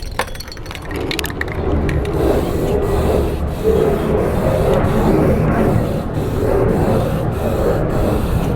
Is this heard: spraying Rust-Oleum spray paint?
yes